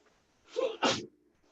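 A single close sneeze bursts out in two quick parts, a sharp inhale then the explosive release, in a quiet room during a lecture.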